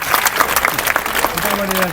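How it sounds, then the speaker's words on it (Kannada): An audience claps at a devotional talk honouring a Haridasa music scholar, with steady applause running beneath someone speaking. "ದೂರ ಚಪ್ಪಾಳೆ ಹೊಡಿರಿ"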